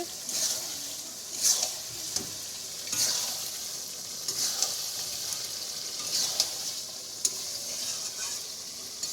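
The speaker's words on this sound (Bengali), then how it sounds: "এই দেখো যে কষানো হচ্ছে" Food being sautéed in a pan in a home kitchen, a continuous frying sizzle broken by repeated scraping stirs at an irregular rhythm, close and moderately loud, with no talking.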